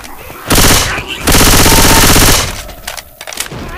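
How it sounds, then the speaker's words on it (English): Loud sustained machine gun fire in the zombie shooter Left 4 Dead 2, two long rapid bursts separated by a short gap, then trailing into scattered quieter game noises. "You are shooting me!"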